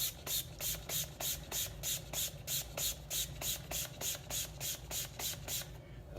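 A GEM Dandy record cleaner sprays cleaning fluid onto a vinyl record in quick, evenly spaced hissing bursts, about fourteen short pumps in a row, close and clear.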